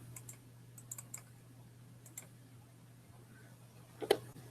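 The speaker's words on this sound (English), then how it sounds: "so I'll just type it in" Light keystrokes on a computer keyboard, a handful of scattered clicks in short bursts, quiet and close over a low steady hum, ending with a louder click.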